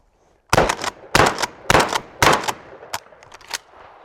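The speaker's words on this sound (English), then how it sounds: "I'll put 1, 2, 3, 4, and try not to short stroke the gun." A shotgun fires short shotshells, about four loud blasts in quick succession, each followed by a sharp clack of the action cycling.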